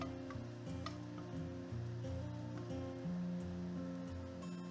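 Garlic sautéing in oil in a pan gives a soft, steady sizzle, faint beneath louder tonal background music, with no talking.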